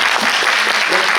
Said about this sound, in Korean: 오늘 말씀 나누신 감독님께 큰 박수 부탁드립니다